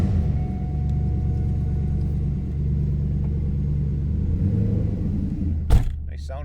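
A 1999 Chevrolet Camaro Z28 engine, cold started, rumbles at a steady low idle for several seconds, with a brief louder bump near the end.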